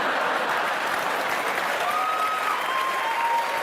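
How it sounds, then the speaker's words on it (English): Audience applause at a stand-up comedy show fills the room steadily from start to finish, a dense, even wash of clapping with no voices rising above it. "They applaud when you smoke."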